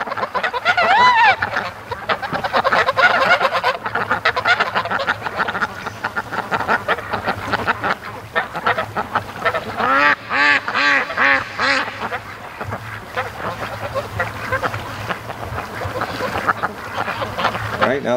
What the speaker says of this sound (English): Those two Pekings were on top of each other and Goose Lee was just losing his